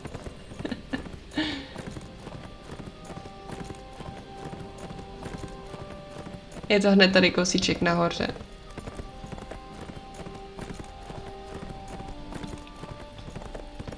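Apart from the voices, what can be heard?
horse hooves clip-clopping in Horsez 3 video game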